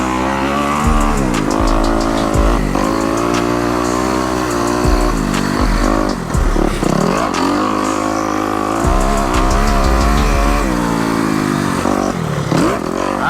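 A dirt bike laps a motocross track with a soft sand-mixed surface at MX 191 in Milton, Florida, its engine loud and close throughout, repeatedly revving up through the gears and dropping off between bursts.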